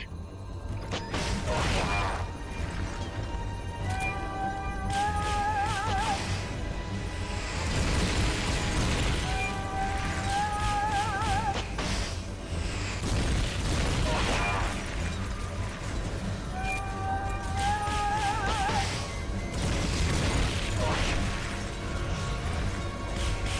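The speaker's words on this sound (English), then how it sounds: "Hit that thing with rockets." Rockets fired in a video game blast a target in a dense, continuous barrage of booming explosions, crashes and whooshing bursts, with game sounds and music-like tones layered throughout.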